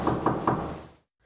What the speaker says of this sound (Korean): 출동한 경찰이 문을 두드리고 벨을 눌러도